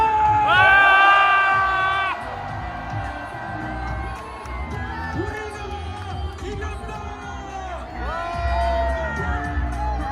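A large outdoor rally crowd in Korea celebrating a court ruling cheers and shouts together, loud roars rising and falling in waves, with a leader's amplified voice audible over the din.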